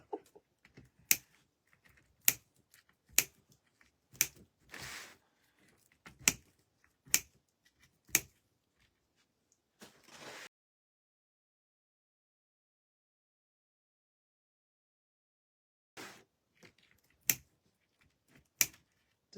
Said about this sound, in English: Just having fun clipping off my zip ties.